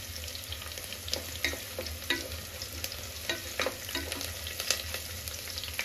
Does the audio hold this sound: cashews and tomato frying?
yes